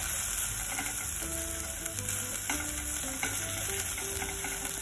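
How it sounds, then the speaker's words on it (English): Ginger garlic paste stir-fries in a pan with a steady, close sizzle, broken by repeated scraping and clinking of a utensil against the pan, with no talking. "Now add ginger garlic paste. Stir fry them until raw smell goes away."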